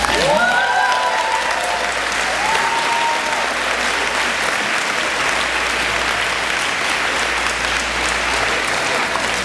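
Sustained audience applause fills a campus address hall from start to finish, loud and dense, with a brief voice audible over the clapping near the start.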